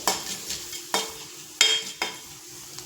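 Mustard seeds and fenugreek sizzle and pop in hot oil while a spoon scrapes and stirs the pan in several sharp strokes.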